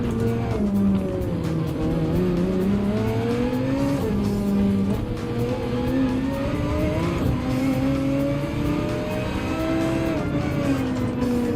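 Race cars in Gran Turismo 7 at the Circuit Gilles Villeneuve, a continuous loud engine drone rising and falling as gears shift, with several cars close together and occasional tyre squeal.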